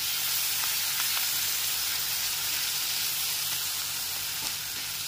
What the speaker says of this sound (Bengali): আদা বাটাটাকে তেলের সাথে ভালো করে কষিয়ে নিতে হবে।